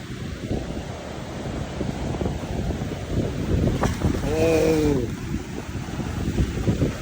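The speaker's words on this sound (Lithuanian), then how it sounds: "Vanduo verda kaip didžiausiam džakiuzi verda." Water churning and bubbling like a jacuzzi at Xel Ha, a continuous rushing wash loud and close with wind buffeting the microphone; a brief tonal voice-like sound rises briefly in the middle.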